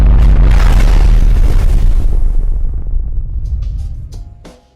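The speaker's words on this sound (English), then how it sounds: "And ones like this, just another explosion." A loud explosion in the Call of Duty 4 video game, a heavy booming blast with deep rumble that decays slowly over several seconds, alone with no talk.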